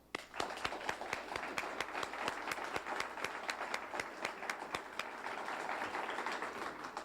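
An audience applauds at the 1988 Civic Service Awards ceremony with steady, fairly rhythmic hand clapping from many people, sounding somewhat faint and distant and running on without a break.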